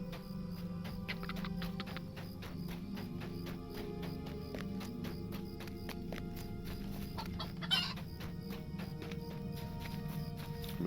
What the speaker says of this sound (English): I wonder if we can grab more than one chicken.